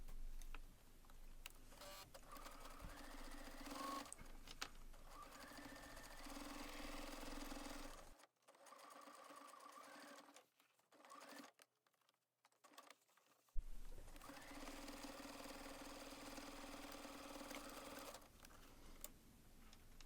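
Sewing machine stitching denim for a jeans backpack, runs of fast rhythmic needle clatter that stop for a few seconds of near silence and then resume, close and fairly quiet.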